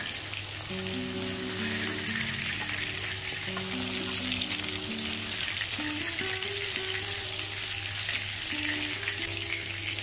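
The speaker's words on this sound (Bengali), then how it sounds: "এইভাবে বাকি মাছগুলো ভেজে নেব" Pieces of stingray fish fry in hot oil, giving a constant crackling sizzle with a soft melodic tone running underneath the whole time.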